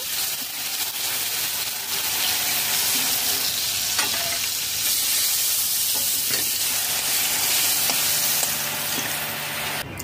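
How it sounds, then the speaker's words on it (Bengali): Prawns frying in hot oil give a loud, dense, continuous sizzle and crackle close up, with occasional stirring clinks and no talking. "দু মিনিট ভেজে নিয়েছি, তুলে নেব।"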